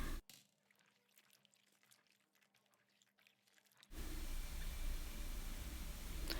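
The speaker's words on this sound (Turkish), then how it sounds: "Tekrar duruluyorum ve bir süzgecin üzerine alıyorum." Fresh okra being rinsed in water in a kitchen, opening with faint handling noises before a steady loud rush of running water takes over for the remaining seconds.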